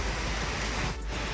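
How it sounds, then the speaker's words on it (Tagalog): Sea waves wash onto the clean beach at San Juan, La Union in the morning, making a brief, steady, broad rushing wash at moderate distance. "Wala kang ibang maririnig kundi yung pagaspas ng alon."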